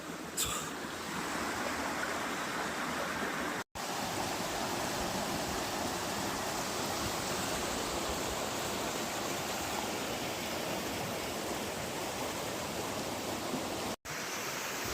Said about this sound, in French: ça fait 20 minutes que je suis en train de marcher au bord de cette rivière